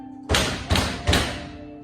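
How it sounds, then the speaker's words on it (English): Three heavy, evenly spaced knocks on a wooden door, each a loud thud with a short ringing tail, heard up close during a stage play with no talking. "Hark, more knocking"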